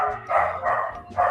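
A dog barks nearby during an indoor conversation, three loud barks spaced evenly over about a second, close and prominent with no speech over them.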